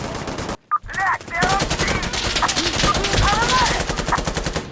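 Dense automatic gunfire from the game Insurgency: Sandstorm, loud and sustained, with rapid bursts overlapping after a brief silent gap near the start; a faint voice briefly cuts in.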